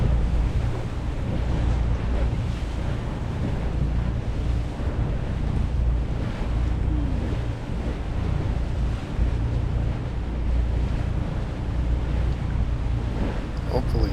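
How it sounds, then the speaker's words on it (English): Waves on the Mississippi River wash and slap steadily around a moving boat, mixed with a low engine drone and gusty wind buffeting the microphone throughout. "the waves are coming north, and there's no wind"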